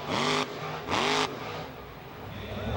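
A monster truck engine roars in two loud, rising revving bursts during a freestyle run at Evergreen Speedway, each surge cutting off before a lower engine drone carries on to the end.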